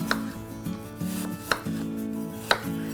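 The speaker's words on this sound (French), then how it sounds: "couper des petites, les pommes en petites lamelles, mais en gardant toujours la forme" A knife slices apples into thin slices on a cutting board for a tarte tatin, with sharp knocks against the board at a steady pace, about one per second, between soft slicing sounds, close and clear with no talk.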